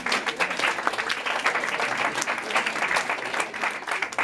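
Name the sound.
audience applauding students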